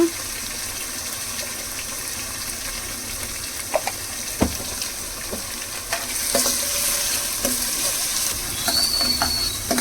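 Mutton sizzles and fries in a pan with turmeric added, with steady frying hiss and occasional stirring clinks and scrapes, fairly close and alone without talk.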